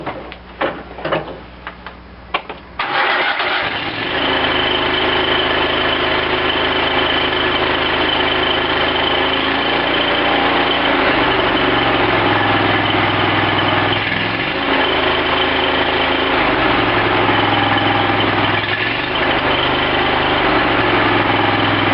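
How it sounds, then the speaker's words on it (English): Small Cub Cadet lawn tractor engine, freshly refueled after a carburetor bowl fill, catches after a few rough sputters and settles into a steady, close, continuous idle with a faint mechanical tick and no talking. "gave it another shot of gas just to let the engine run faster and run the fuel pump faster to fill the bowl, and now fires right off"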